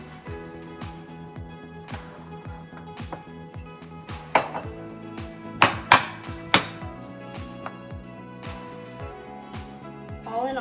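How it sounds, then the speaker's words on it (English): Metal utensils clink and scrape against a dish while microwaved sweet potatoes are cut in half and scooped out, with a few sharper knocks in the middle and a steady low background hum throughout. "I'm gonna cut my potatoes in half and then scoop the insides out of them"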